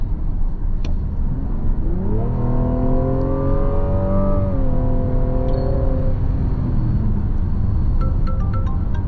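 A 2025 Mazda CX-80 G40e six-cylinder engine hums steadily while a smooth synthetic-sounding artificial enhancement tone rises in pitch, holds, then eases down, over a constant low rumble.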